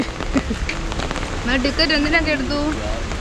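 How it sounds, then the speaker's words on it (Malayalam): Heavy rain pours steadily at Thumboormuzhi park in Kerala, a dense, continuous patter on surfaces. Someone talks over it midway. "മഴ ഒരു രക്ഷയില്ല കേട്ടോ, മഴയാണ്"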